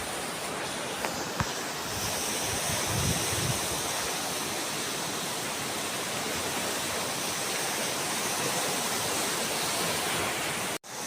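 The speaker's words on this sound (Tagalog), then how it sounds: "Ang laki ng alon. Grabe." Big ocean waves stirred up by Typhoon Opong crash in a continuous, loud roaring wash of surf heard alone, with no voices, ending abruptly.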